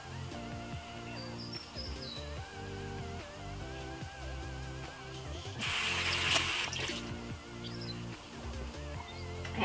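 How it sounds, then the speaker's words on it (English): A chamois cloth is rinsed under running water in a bathroom sink during a morning skincare routine, a soft steady splash from the tap with a louder gush midway, close and quiet with no talking. "I can just rinse it out and wipe off the rest."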